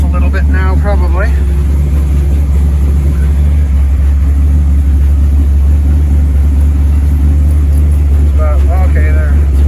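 A car engine idles on choke with a loud, steady low rumble close by, and voices talk briefly over it near the start and end.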